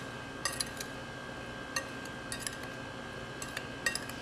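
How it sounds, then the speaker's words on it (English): A spoon stirs a liqueur and cognac dessert flavored with orange, making a few light, scattered clinks against the dish over a steady low room hum. The sound is close but quiet. "And we'll just give it a stir."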